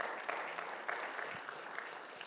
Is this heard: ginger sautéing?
no